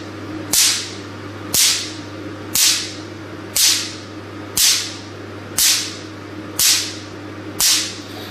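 Pico laser pulses fire into paper held under a protective plastic bag, giving eight sharp, loud snaps at a steady one-per-second rhythm, each crisp crack followed by a short hiss, over a constant low machine hum.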